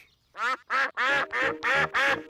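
Cartoon ducks at a pond quack six times in a steady, evenly spaced series, loud and close, each call a raspy, nasal honk.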